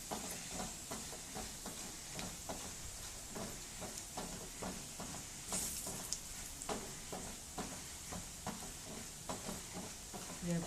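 Curry leaves sizzle in tempering oil with dried red chilies, chana dal, urad dal, mustard seeds and asafoetida, giving a faint, steady hiss punctuated by frequent small pops and crackles.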